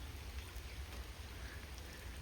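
Rain falling outside after a car wash, a faint, even patter with no voices, steady for a couple of seconds.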